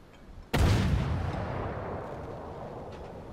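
A submarine deck gun fires a shell in the Uboat video game: one sudden heavy blast followed by a long, fading rumble.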